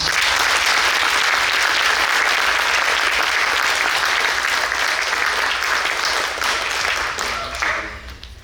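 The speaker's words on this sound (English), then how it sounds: "A big round of applause for Eesha." An audience applauds loudly after a classical dance arangetram debut performance. The clapping is full and sustained, then thins and fades over the last second.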